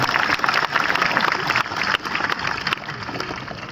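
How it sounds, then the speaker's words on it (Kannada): A crowd at a swamiji's speech in Koppal bursts into loud, sustained applause, dense clapping filling the whole stretch with brief dips but no pause. "ಒಂದು ಚಪ್ಪಾಳೆ ತಟ್ರಿ ಅವ್ರಿಗೆ"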